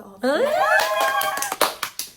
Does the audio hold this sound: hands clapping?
yes